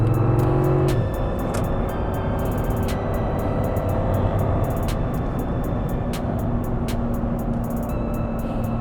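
A Lexus GX460 SUV, tuned with ShiftPower for off-road use, is floored in race mode, and a loud, steady engine roar fills the cabin throughout with no speech.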